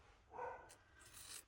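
A dog somewhere in the room lets out a single muffled bark, then a faint yip follows, both fairly quiet and distant, with no one speaking.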